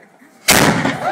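A volley of gunfire goes off on command, a single sudden loud blast after a brief quiet lead-in, with a sustained roaring wash of sound afterward, heard close.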